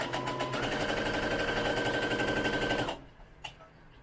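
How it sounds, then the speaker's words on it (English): Sewing machine stitching doll undergarment fabric, a fast steady mechanical whir of the needle for about three seconds, then stopping abruptly, followed by a brief soft click in the quiet. "line up the foot of our sewing machine along the edge of the fabric"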